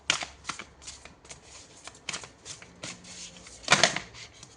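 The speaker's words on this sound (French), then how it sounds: "Oh, j'ai trop de cartes." Tarot cards being shuffled by hand, with several quick papery riffles and flicks in uneven bursts, close and crisp, ending in a louder flurry. No one speaks.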